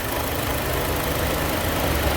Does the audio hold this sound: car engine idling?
yes